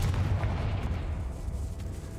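A Confringo explosion spell goes off in a video game, a loud, rumbling blast with dense low-end boom that sustains and slowly fades over about two seconds, heard alone.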